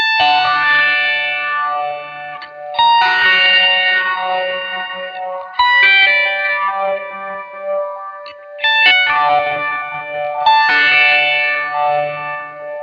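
Electric guitar through an octave-up whammy pedal set to a single solid octave, heavily processed with sweeping swells and rising, falling bends in repeated phrases.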